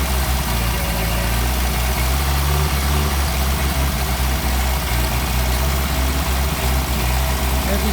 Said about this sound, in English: As he sprays that combustible fluid and gets sucked into the carburetors, you can hear the RPM change.